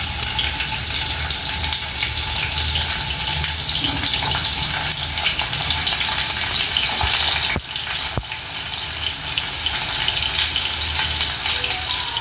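Onions and green chilies frying in oil, a continuous bright sizzle with hissing crackle held steady throughout, close and loud, with a couple of brief clinks near the end.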